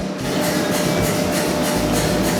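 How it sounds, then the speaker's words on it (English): Rhythmic sanitary pad machine clatter in a factory in Kenya, repeated clicks over a heavy low rumble, loud and close with no talking. "each click that you hear means that one more sanitary pad is being made for young women here in Kenya"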